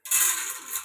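Peanuts are dropped into hot oil in a pan, setting off a sudden bright sizzle that starts abruptly and hisses on steadily for under a second, close and fairly loud.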